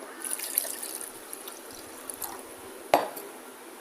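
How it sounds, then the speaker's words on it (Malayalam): Water is poured into a blended lemon drink mixture, giving a faint, soft trickle and splash close by, with one sharper clink partway through. "ഇനി നമുക്ക് വെള്ളം ചേർത്ത് കൊടുക്കാം"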